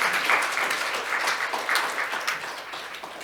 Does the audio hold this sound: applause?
yes